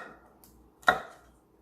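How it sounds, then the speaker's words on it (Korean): A single crisp knife chop through celery onto a cutting board, sharp and close with a short decay, preceded by a faint lighter tap in an otherwise quiet kitchen. "이렇게 잘라서 1cm 정도 폭이 됐으면 또 1cm 정도 길이로 해서 맞춰서 썰어서 준비를"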